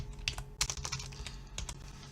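Typing on a computer keyboard while working in Excel, a quick irregular run of close, sharp key clicks, some louder than others, over a faint steady hum, with no speech.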